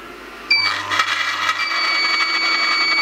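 An Angel juicer's motor starts up after the start button is pressed, giving a steady mechanical whir with a high tonal whine that continues evenly and close by, with no talking.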